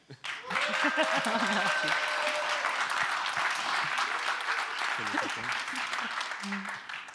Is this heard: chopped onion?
no